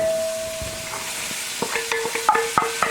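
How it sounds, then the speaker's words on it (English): Onions, celery, carrot and jalapeno sweating in a soup pot, a soft sizzle with a fading tone early on, then a run of sharp spoon scrapes and clinks against the pot. "then we're going to sweat our vegetables"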